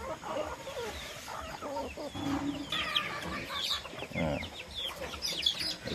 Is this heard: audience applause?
no